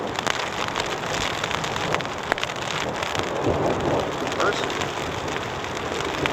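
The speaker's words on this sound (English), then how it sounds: "one of the storms finally got to us" Steady rain with a thunderstorm beating on camping tents, a dense unbroken hiss of drops on fabric held close and fairly loud throughout, with no clear thunderclap standing out.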